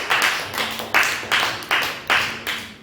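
A church congregation claps for Jesus, a run of about seven loud, evenly spaced bursts of collective hand clapping in a steady rhythm, with no talking over it.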